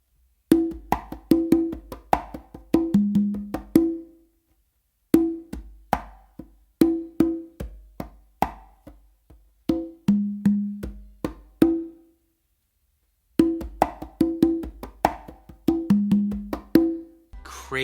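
Conga drums play a groove, sharp slaps and open tones in repeating shuffled phrases, close and crisp, with short pauses between sections.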